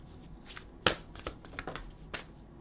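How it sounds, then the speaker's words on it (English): A tarot card deck is shuffled by hand close up, giving a series of crisp riffling snaps and flutters with one sharp slap, quiet and without talk. "I'm just going to shuffle and let them come out on their own."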